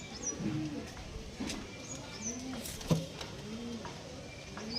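Pigeons coo repeatedly nearby, soft low rolling calls overlapping in a steady series, with faint higher chirps and light background noise.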